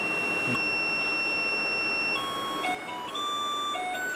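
A steady electronic driver drowsiness alert alarm beeps in repeated high tones over a constant background hum, close and moderately loud.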